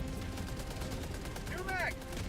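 A sentry turret called down in the video game Helldivers 2 fires a steady, dense stream of rapid shots under constant battle noise, with a short whining sweep partway through.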